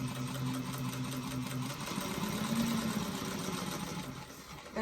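Sewing machine running a basting stitch on a tote bag panel, a continuous close motor whir with rapid needle chatter, steady throughout and slowing slightly near the end.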